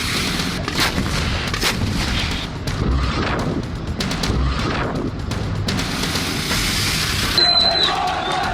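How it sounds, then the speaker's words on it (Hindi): Artillery shells fired from tanks at front-line positions in the Israel-Hamas war, a dense run of loud booms and gunfire blasts rolling on for several seconds amid crowd-like background noise. "यानी कि इन शेल्स को यहां से फायर किया जाएगा।"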